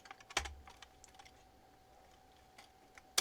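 Code being typed on a computer keyboard: scattered light key clicks with a few sharper, louder strikes, set against a quiet room with a faint steady hum.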